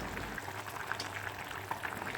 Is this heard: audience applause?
no